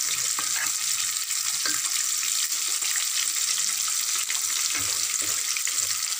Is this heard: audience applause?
no